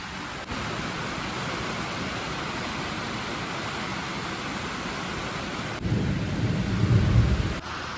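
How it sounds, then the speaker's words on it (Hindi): Steady rain pours down continuously in sunshine over an almond orchard in Shimla, a dense hiss of drops that swells louder near the end before easing slightly. "ये देखो ऊपर से आसमान साफ है, धूप भी लगी है पर बारिश भी हो रही है"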